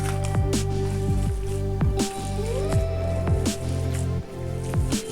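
Kebab meat mixture with ghee being kneaded by hand like dough, producing wet, rhythmic squelching and squishing sounds close up, repeated every half second or so.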